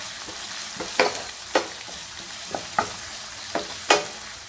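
Curry leaves hit hot oil for a Thalassery chicken dum biryani masala, giving a soft, quiet sizzle broken by several sharp stirring clicks and pops spaced across a few seconds.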